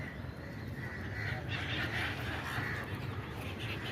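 Faint honking seabird calls carry over a steady outdoor background at a lake in Seawoods Darave, Navi Mumbai, a few scattered cries from a flock at a distance.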